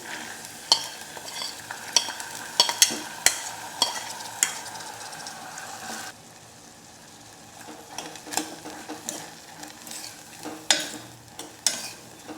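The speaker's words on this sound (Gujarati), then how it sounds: "બધું બરાબર મિક્સ કરી લઈએ હવે તેમાં આપણે પલાળેલા મગ ઉમેરી દઈશું" Soaked mung beans with chili, ginger-chili paste and spices are stirred in a frying pan, with repeated scraping and clinking strokes over a soft sizzle, busy at first, then quieter before the stirring picks up again.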